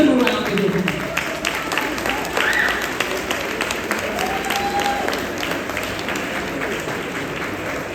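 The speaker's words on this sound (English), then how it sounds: "Let's give him a round of applause." An audience at a Malcolm X birthday celebration at the Shabazz Center applauds steadily with dense, sustained clapping that stays loud and unbroken from start to finish.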